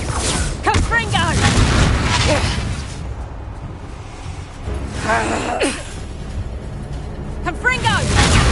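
Bombarda and Confringo spell blasts in Hogwarts Legacy go off in several loud bursts with whooshing swells, one at the start, another midway and more near the end, over continuous game noise and a talking voice.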